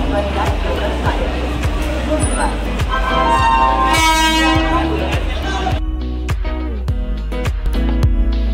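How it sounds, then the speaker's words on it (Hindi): Busy platform at Bhopal railway station with trains, a loud horn toot and rhythmic clatter of train wheels amid crowd noise and voices. "हम अब रेल से उतरकर भोपाल रेलवे स्टेशन पर फाइनली पहुंच चुके हैं।"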